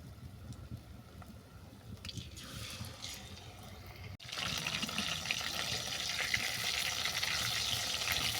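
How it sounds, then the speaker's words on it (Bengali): Lotte fish drop into hot oil and a broad, bubbling sizzle swells up after a quieter stretch of faint frying crackle. The sizzle then holds steady and fairly close. "বাকি যেগুলো আছে একইভাবে আমি ভেজে নেব"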